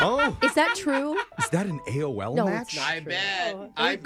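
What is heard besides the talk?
No everyday noise stands out behind the speech.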